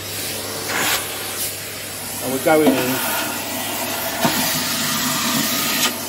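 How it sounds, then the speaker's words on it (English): A Hoover vacuum cleaner runs with a steady broadband roar while dirt is cleared out of a secondhand Exo Terra reptile enclosure. A few brief knocks and rattles come through it, and a voice speaks briefly over the noise. "Now I'm going to turn the Hoover on guys, so you're going to hear some noise"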